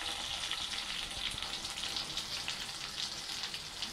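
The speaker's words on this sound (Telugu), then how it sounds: "చూసారండి ఎట్లా ఫ్రై అవుతుందో చక్కగా." Fish pieces frying in a little oil in a small pan, a dense continuous sizzle with crackling spits, close and steady without any talk.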